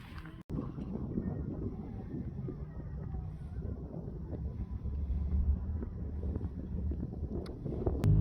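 Steady wind buffets the microphone in the desert at Johnson Valley, California, with a continuous low rumble and roar throughout, close and fairly loud, with no clear talk.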